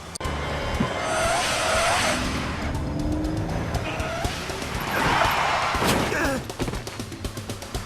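A car in the video game Lost Horizon speeds and brakes during a chase: a roaring engine, two long surges of screeching tire squeal, then quick thumps and clatter as it slows.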